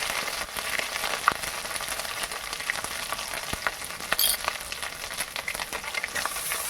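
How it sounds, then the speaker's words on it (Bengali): Ginger paste fries in oil with whole spices like cinnamon, cardamom, cloves, nutmeg and mace, a steady crackling sizzle punctuated by occasional sharp pops and spatula stirs, close and continuous. "দিয়ে আদাটাকে ভালো করে ভেজে নেব।"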